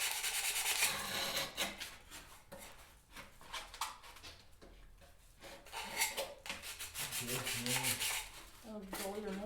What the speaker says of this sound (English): Because this is good sandpaper.